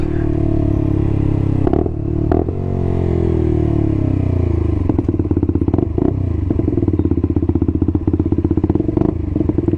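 A 125cc motorcycle rides along, its engine loud and close with a rapid pulsing exhaust note that drops through a gear change and then climbs as it accelerates, with occasional clattering thumps.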